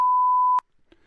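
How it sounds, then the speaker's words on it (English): A single steady electronic beep tone holds for about half a second and then cuts off sharply into near silence, with only a faint soft tap after it. "Man, I love this beep."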